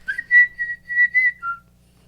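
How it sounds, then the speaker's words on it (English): A person whistles a short, clear melody of about six bright notes, the last one a lower dip, close and alone against silence. "That was a really good whistle"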